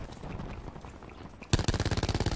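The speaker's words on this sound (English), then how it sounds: "top it off with another shotgun, and then top that off with another punch" Rapid, closely spaced gunfire from Call of Duty Black Ops 4, loud and near, follows a busy stretch of game noise and continues in a steady rattling burst to the end.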